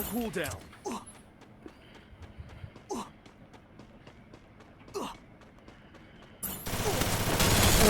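Gunfire in the mobile battle royale game Free Fire, with several sharp shots spaced across the clip and a louder burst of noisy firing near the end. No one speaks.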